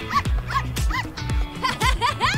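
A small pet dog lets out a quick run of high yips and barks, close and loud, with whimpery edges. No one speaks.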